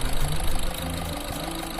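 A Volkswagen car engine idles close by after an injector replacement, settling from a slightly louder start into an even, steady rumble without vibration, with no voices.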